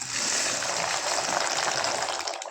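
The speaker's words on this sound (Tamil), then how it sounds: "இப்போ தண்ணி நல்லா கொதிச்சிச்சு இதில் பாஸ்தா சேர்த்துக்கிறேன்" Rushing, bubbling water churns steadily in a pot as pasta is added to it at a boil, a constant watery gush at moderate volume with no voices.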